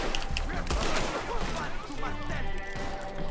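Gunfire in the video game Red Dead Redemption 2: a dense, loud volley of overlapping shots and cracks that fills the whole moment, layered with other game sounds.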